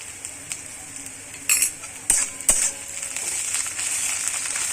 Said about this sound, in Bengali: পেঁয়াজটা আমার ভাজা ভাজা হয়ে এসছে